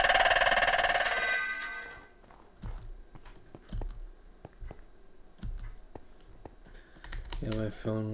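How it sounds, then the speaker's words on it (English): A phone notification chime plays at the start of a Minecraft gaming session, a bright, tonal ringtone-like sound lasting about two seconds, followed by keyboard typing clicks and another short chime near the end. "my phone was making some kind of notification noise."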